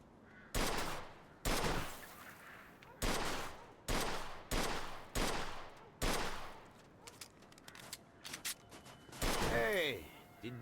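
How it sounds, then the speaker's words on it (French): Gunfire aimed at an old wreck in Mafia 2, coming as a string of loud, evenly spaced heavy shots with brief gaps, then a tighter cluster of rapid cracks near the end, with faint speech beneath. "Tire sur la vieille épave, là-bas."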